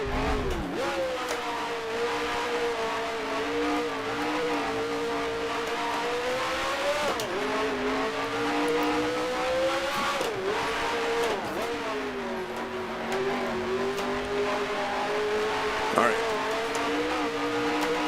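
A Grand Prix Legends race car engine screams down a straightaway at sustained high revs, with a brief dip and climb as gears change, under talk from a commentator.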